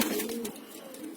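Pigeons in a breeding loft give a short, close coo, a low throaty call with a slight downward bend against a soft outdoor background.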